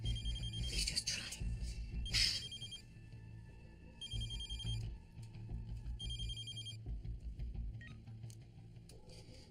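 A telephone rings in repeated electronic bursts with short gaps between them, loud and close, over a low hum.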